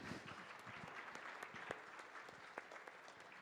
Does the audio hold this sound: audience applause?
yes